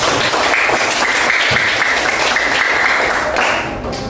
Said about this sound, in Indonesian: Tepuk tangan buat semuanya.